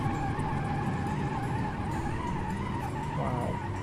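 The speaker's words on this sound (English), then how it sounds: "Testing the brakes." Car in a driving video game braking hard from high speed on a desert highway: a loud, steady engine drone with a tonal tire squeal and skid that wavers near the end.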